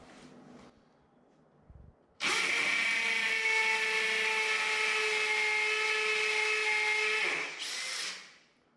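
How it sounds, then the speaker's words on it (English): A hammer drill bores into tile and concrete in one continuous, loud, close run of about five seconds with a steady high whine and rattle, then winds down, after brief handling noises. "set it to hammer drill. That will help us drill down into the concrete much faster"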